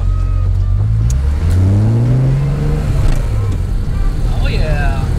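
An old rental car's engine hums low and steady from inside the cabin, rising in pitch as it accelerates before settling back, with people talking over it.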